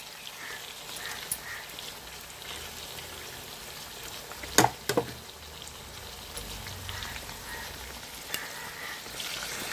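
Chicken tikka pieces for a smoky restaurant-style biryani sizzle steadily in a pan, a continuous soft frying hiss with a pair of sharper clatters midway as the pieces are turned.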